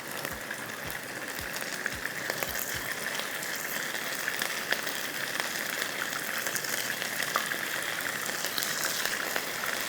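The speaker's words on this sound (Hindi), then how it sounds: "इसको भी हम फ्राई करके निकाल लेंगे" Beef strips frying in oil, a dense, even crackling sizzle continuing steadily throughout, close and unbroken by speech.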